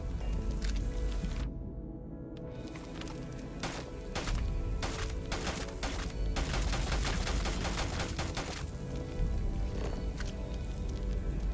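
Rapid gunfire from a regular weapon in the space game Starfield, a dense run of sharp repeated shots over a steady game background, with a brief pause and then more bursts.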